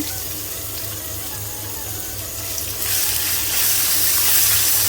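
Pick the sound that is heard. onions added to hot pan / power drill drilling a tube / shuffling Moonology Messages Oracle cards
onions added to hot pan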